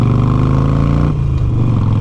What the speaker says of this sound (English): it's a loud motorcycle